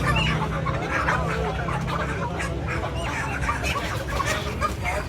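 Many chickens cluck continuously at a busy poultry market in Lahore, Punjab, a dense, close chorus of clucks with faint voices murmuring underneath.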